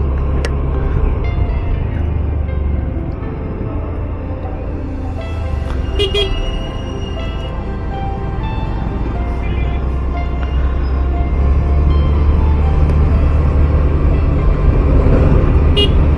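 Heavy road traffic sits jammed at the Bongaon No. 1 railway gate, with a constant engine rumble and several sharp car horns honking intermittently, some nearby and some farther off.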